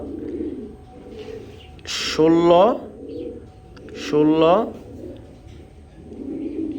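Someone speaks briefly while two racing pigeons coo nearby, soft warbling coos rising and falling in the background between his words.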